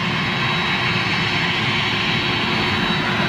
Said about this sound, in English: Look at these engines, man.